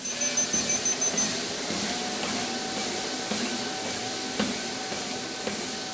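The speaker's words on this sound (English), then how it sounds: "that's the sound of the belt moving over the deck and rollers" Continuous hissing, whirring running noise from a walking pad belt moving over its deck and rollers, steady and fairly close, with a few faint soft thumps and no talking.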